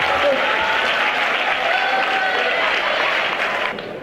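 A steady wave of audience applause fills a faculty of pharmacy annual lecture hall, many hands clapping continuously and evenly before tapering off at the very end.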